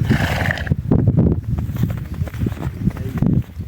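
A heavy draft horse whinnies nearby while hooves clop and shuffle on the ground at a farm, with scattered movement throughout.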